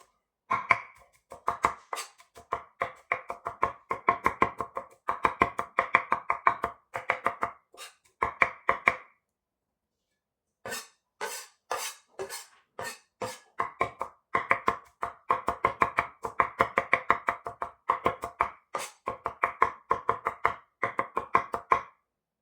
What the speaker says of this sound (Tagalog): i-mince garlic natin para po mas masarap